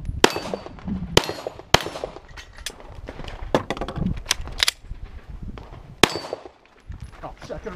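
Gunshots at an outdoor shooting session, sharp loud cracks in an irregular string, some close together and others spaced apart, with metallic clangs from struck targets and faint voices in the background.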